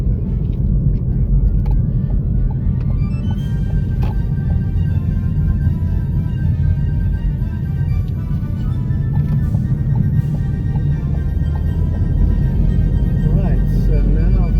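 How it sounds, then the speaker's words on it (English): A car drives around a block, its steady engine and road rumble running continuously and fairly loud throughout, with no clear breaks. "so now going for a drive around the block"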